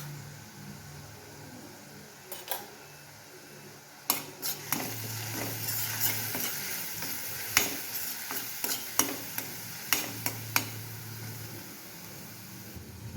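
Red chili powder fries in hot oil tempering with a low, steady sizzle, joined by a run of spoon scrapes and taps against the pan as it is stirred.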